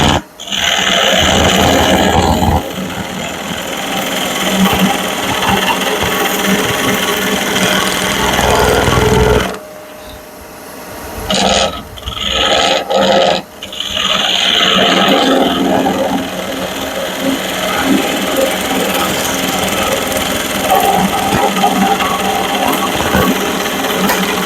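Wood turning on a lathe with a gouge and a skew chisel gives a loud, continuous whirring scrape, broken by a short pause and a few stop-start moments midway before the steady cutting resumes.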